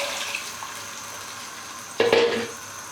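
About 1.5 litres of water is poured into a pot of browned desi chicken curry, giving a sudden loud splashing hiss after a quiet sizzle, then easing off.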